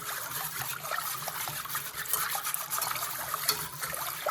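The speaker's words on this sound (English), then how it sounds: "So I added the milk and I'm just whisking it all together." Milk being whisked into a pot of cauliflower soup: a continuous wet swishing and sloshing with faint scraping, close and fairly steady for a few seconds, no voices.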